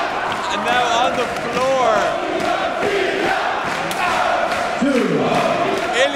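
A wXw wrestling crowd chanting and roaring during a match, a loud, sustained mass of voices with rising and falling shouts, thumps from the ring, and commentators talking over it.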